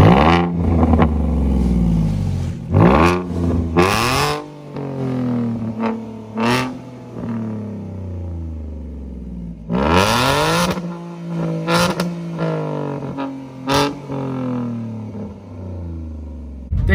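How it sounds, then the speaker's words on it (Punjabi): A modified Ford Mustang fitted with an aftermarket muffler is revved hard in repeated bursts, its deep exhaust roar climbing and dropping back to a loud idle rumble between blips. "ਹੁਣ ਤੁਹਾਨੂੰ ਅਸੀਂ ਆਵਾਜ਼ ਸੁਣਾਉਂਦੇ ਹਾਂ ਗੱਡੀ ਦੀ।"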